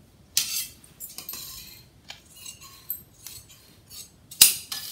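Scissors cutting blouse fabric along a marked line, a few sharp, separate snips and clicks with quiet pauses between them, one louder snip near the end.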